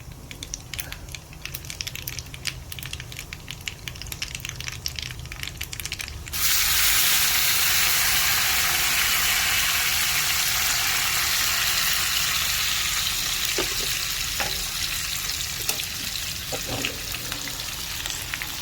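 Cumin, curry leaves and chili hit hot oil with a sudden loud burst of sizzling partway through, after quieter crackle, then a dense spitting fry that stays strong to the end.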